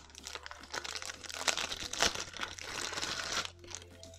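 Packaging around a cover case for a Lenovo Tab M10 FHD Plus tablet is pulled open, giving a continuous close crinkling and rustling with sharper crackles and rising and falling intensity.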